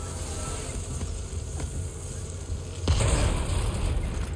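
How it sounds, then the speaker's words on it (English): Grenade blast in the Resident Evil game, one sudden broad boom about midway that leaves a louder rumbling, sizzling wash after a quieter stretch of background noise. "Where is he throwing this grenade from?"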